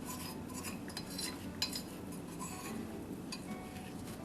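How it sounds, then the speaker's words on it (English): Metal service tool scraping debris and clinkers out of the burn pot of a HearthStone pellet stove, making quiet, close, continuous scratching and light metallic clinks. "Using your service tool, scrape out any of the debris and clinkers that may be left in the ash burn pot"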